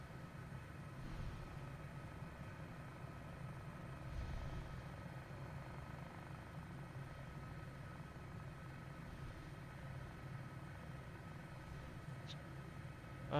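Soft, steady rotor and turbine whir of a simulated helicopter in Microsoft Flight Simulator, flying at night over the Dutton Yellowstone Ranch, faint and continuous with occasional gentle swells.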